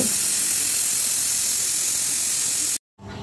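A pressure cooker holding mutton curry lets off steam in a loud, steady, close hiss that holds for almost three seconds, cuts off abruptly and then returns faintly.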